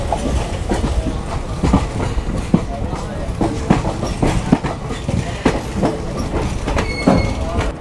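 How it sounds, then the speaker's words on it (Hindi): An express train, the Manwar Sangam Express, clatters over a track switch arriving at Ayodhya Cantt, with steady rhythmic clickety-clack of wheels on rail joints, loud and close throughout with faint squeals. "यहाँ से गाड़ी मेरी कट रही है दूसरे ट्रैक पर"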